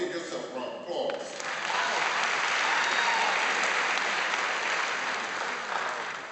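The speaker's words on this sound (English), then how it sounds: "Give yourself a round of applause." Audience applause at a guest speaker's talk, a dense sustained wash of clapping that swells after the first second and holds steady and loud to the end.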